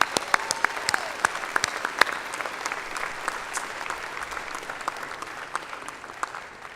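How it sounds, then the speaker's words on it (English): Graduates applaud at a Northwest Missouri State University spring commencement, a sustained burst of dense clapping from a large crowd in a hall that gradually thins out over several seconds. "Give yourselves a round of applause"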